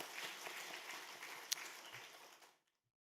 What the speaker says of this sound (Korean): 오늘 말씀을 허락하신 하나님께 영광의 박수 올리겠습니다